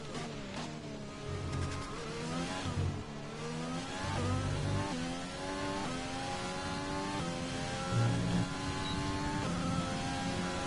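An F1 car in F1 2020, driven in free practice at Barcelona, holds a steady engine whine that climbs in pitch with each gear, shifts down briefly, then rises again. The sound is moderately quiet, with no talking.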